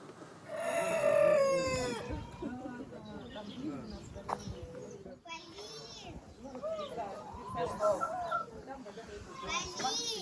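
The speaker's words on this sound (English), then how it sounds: "This is what I call free-range chickens." Free-range chickens in a rural Russian prepper village, with a rooster crowing loudly early on and scattered clucks afterward, mixed with children's voices and people talking nearby.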